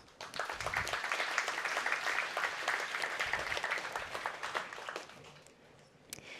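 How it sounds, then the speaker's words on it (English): Conference audience applause for speakers at a technical session, a full crowd clapping in a dense, even wash that swells quickly, holds, then tapers toward the end, somewhat distant and quiet. "Let's give our speakers another round of applause."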